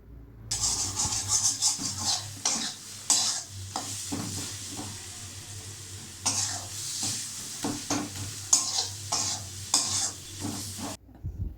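Spices sautéing in oil over a low gas flame while a Bengali fish curry is cooked, with a quiet steady sizzle broken by repeated scraping stirs and occasional clinks of a spoon against the pan.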